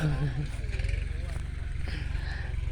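A tractor working a vegetable plot in hard soil gives off a steady, loud, low engine rumble that runs the whole time, with voices faintly underneath.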